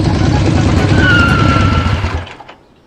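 A motorbike engine runs loud and close, a dense low rumble holding steady for about two seconds before dying away and cutting out near the end.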